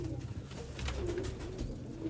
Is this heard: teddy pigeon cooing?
yes